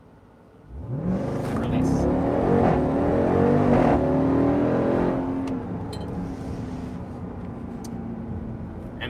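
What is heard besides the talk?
Jeep Grand Cherokee Trackhawk full-throttle launch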